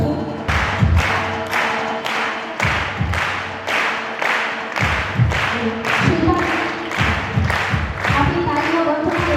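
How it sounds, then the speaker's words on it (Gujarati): An audience at a ceremony claps in a steady, loud rhythm of regular beats, with voices heard now and then. "આપણી તાળીઓ બંધ કરવી જોઈએ."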